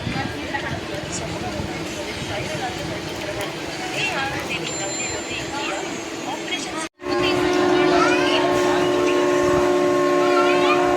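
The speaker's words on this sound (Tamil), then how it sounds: "நமது தொடர் வண்டி புறப்பட்டு விட்டது." An express train pulls out of a station on a run from Tiruchirappalli toward Thanjavur, its rolling rumble steady, then a loud, sustained horn blast sounds close by for the last few seconds after a brief break.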